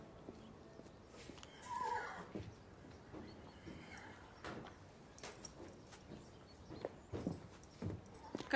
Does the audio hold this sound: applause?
no